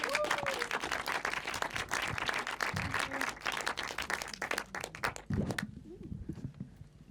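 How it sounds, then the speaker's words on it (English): Applause from an audience at a film screening Q&A for the directors, a brisk crackle of many hands that thins out and stops, leaving faint room noise and a brief voice. "could we have a round of applause for the directors?"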